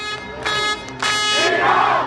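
Crowd roaring and chanting in Iranian streets during unrest, loud, with bursts of massed voices swelling and dropping, building into a sustained roar toward the end.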